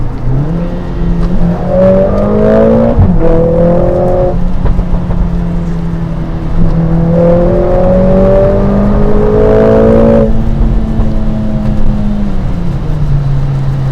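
A 2021 Mercedes-AMG GLA 45 S 4MATIC+ engine revving loudly and close, its pitch rising and falling through a downshift, with deep exhaust pops under the drone.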